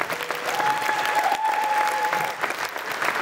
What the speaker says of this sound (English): can I ask you to give them all a huge round of applause?